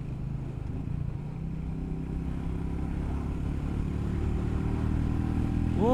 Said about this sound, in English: The engine sounds nice, but you don't hear the exhaust though.